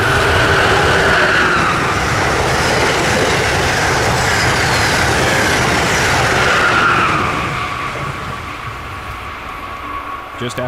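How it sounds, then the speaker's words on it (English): A southbound Amtrak Northeast Regional train with ACS-64 electric locomotives at both ends roars past, loud and broadband with rushing wheel and air noise that holds steady then eases off toward the end. "The next train through was Northeast Regional number 133, roaring their way south on the way to DC with a pair of ACS 64s on both ends"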